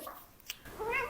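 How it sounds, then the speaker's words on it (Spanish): A house cat lets out a single short, fairly quiet meow near the end, after a soft click and faint room noise. "Eso es mi gato."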